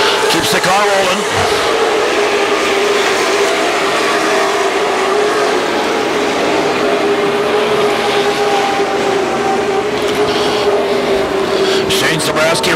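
WISSOTA Super Stock race cars roar around Viking Speedway in a loud, continuous engine drone that holds steady throughout, with a crowd-like wash behind it.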